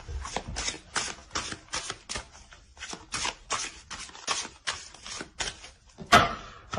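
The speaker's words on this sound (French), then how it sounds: "On va tirer une carte conseil." Tarot cards shuffled and handled while a single advice card is drawn from the deck, heard as a quick run of crisp papery riffling bursts close up, with no talking.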